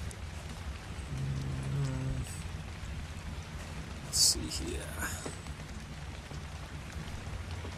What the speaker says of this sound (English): the rain just comes through the thatch house?